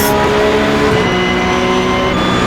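A race car in a sim racing game accelerates hard along a straightaway, its engine a loud, continuous, climbing whine with steady harmonic tones, close and alone with no talk.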